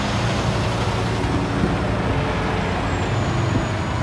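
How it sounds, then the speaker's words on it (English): A big, loud truck passes along a road during a hill-repeat run, giving a steady, heavy roadside rumble and roar that fills the whole moment with no talking. "And now there's a big loud truck driving by."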